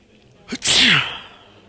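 A single loud sneeze, a quick intake then a forceful close burst, alone in a quiet room.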